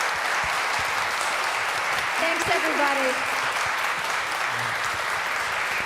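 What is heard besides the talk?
audience applause after a panel discussion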